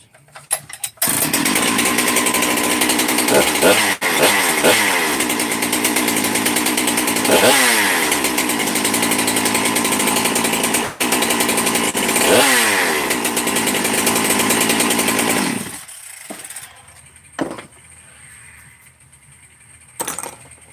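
Husqvarna 394 chainsaw engine running with the idle cranked up, a loud close buzzing roar that surges in repeated revs before cutting out near the end and leaving faint background noise.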